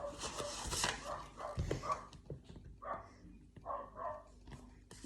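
A house dog barking indoors, a few short yips and whimpering barks fairly close but moderately quiet, mixed with some background noise.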